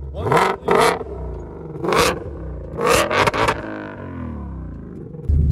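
A Ford Mustang Shelby GT500 with a 771 hp engine barks to life and then revs hard in several loud, close bursts, the deep rumble surging and dropping between blips before a steady idle.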